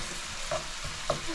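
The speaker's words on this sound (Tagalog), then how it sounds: "Gigisa lang sa bawang, sibuyas, luya." Mussels sautéed with garlic, onion and ginger in a pan give a steady close sizzle, with two brief scraping stirs partway through and no speech.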